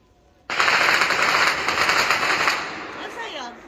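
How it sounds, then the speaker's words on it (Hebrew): Long bursts of rapid gunfire in the city of Lod erupt suddenly and loudly, a dense crackling volley lasting about three seconds before tapering off, with frightened voices speaking. "מה זה היה? ירי, מה זה? זה לא זיקוקים? זה יריות."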